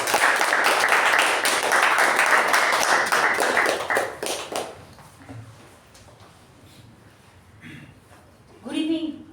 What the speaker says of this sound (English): Please welcome Toastmaster Latha with a huge round of applause